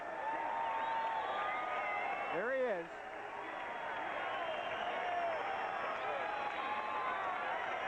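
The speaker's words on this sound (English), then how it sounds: "There's a big crowd here in the Rupp Arena, and they're all up on their feet cheering" An arena crowd at Rupp Arena roars steadily for a heavyweight boxer making his way to the ring, a broad distant cheer under a commentator's brief remark.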